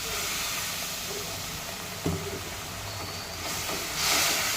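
Hot water is poured into frying masala for an egg curry, raising a steady steamy hiss and sizzle that swells near the end, close and continuous, no voices.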